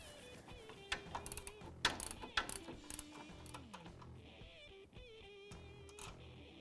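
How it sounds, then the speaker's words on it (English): A 15mm socket on a driver works loose a fastener on a Can-Am Maverick X3 suspension, giving quiet mechanical ratcheting clicks and whirring over several seconds, with no talk. "Then we'll take our 15mm socket and driver and remove this fastener."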